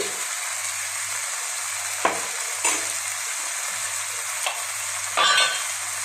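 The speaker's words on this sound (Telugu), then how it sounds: "నెయ్యండి ఒక స్పూను దాంతో బాగా కలబెట్టేసుకుంటాను" Egg and chicken biryani is stirred with ghee in a pan. Quiet sizzling runs under a few scraping spoon strokes, with soft low hum between them and no speech.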